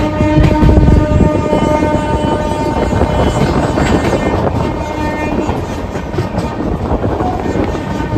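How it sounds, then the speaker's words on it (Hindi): An Indian passenger train running between Lucknow and New Jalpaiguri, a steady loud rumble with rattling carriages and faint clickety-clack, heard from close by without talk. "चलते हैं भाई ट्रेन के अंदर क्योंकि ट्रेन चल चुकी है"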